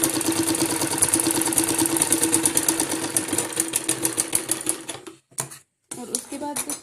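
A sewing machine runs steadily, stitching a salwar cut-work design, with fast rhythmic needle clatter close by that stops briefly near the end before restarting.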